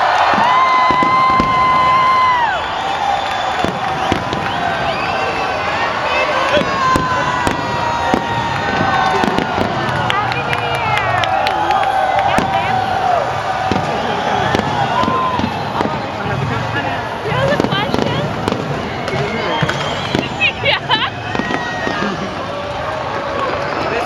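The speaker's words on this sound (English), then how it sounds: "And hopefully the fireworks will be right there up over the cityscape." New Year fireworks burst over the Singapore cityscape, with sharp pops and crackles scattered through a noisy, cheering crowd while people talk nearby.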